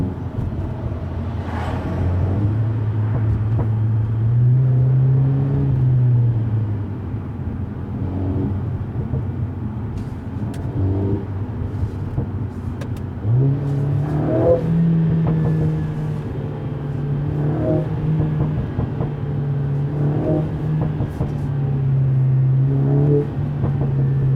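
A 2020 Mercedes-AMG CLA 45 S 4MATIC+ engine drones and rises in pitch as it accelerates through gears, with a deep interior rumble and repeated revving surges, fairly loud and close.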